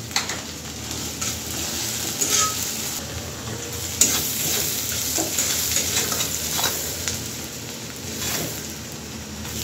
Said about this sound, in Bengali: পেঁয়াজ আর কাঁচামরিচটা খুব ভালো করে ভেজে নেব